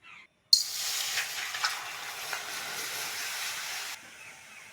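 Water splashes into a hot kadai on a stove, ready for boiling amla, and bursts into a sudden hissing sizzle of steam that holds steadily for about three seconds and then cuts off.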